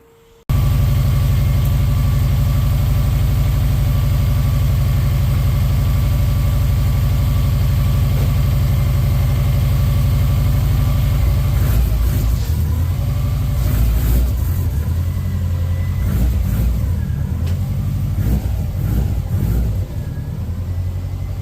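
Subaru Legacy STI engine idling steadily, then revving and accelerating as the car pulls away on a test drive, a loud close drone with rising engine surges and no talk.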